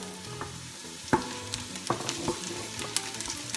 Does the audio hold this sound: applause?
no